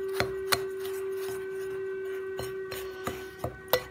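Barmbrack ingredients stirred in a mixing bowl with mixed spice, giving scattered sharp scrapes and taps at an irregular pace over a low steady background hum, with no voices.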